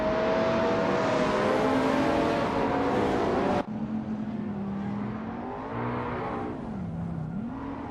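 A 1987 Ferrari F40 race car drives with a loud, steady engine drone, then the pitch dips and swells as it shifts and changes pace, racing on continuously without talk.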